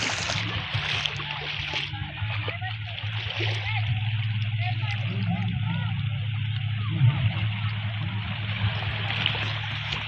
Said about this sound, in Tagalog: marami naliligo mga bata mga matik